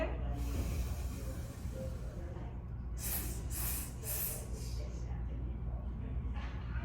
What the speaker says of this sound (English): And we're going to do staccato. Inhale. Force it out.